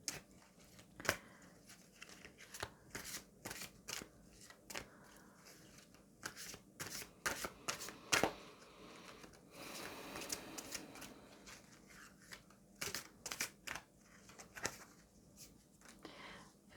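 Angel tarot cards being shuffled by hand, a close, soft run of papery riffles and flicks in irregular bursts over a quiet room, with no talking.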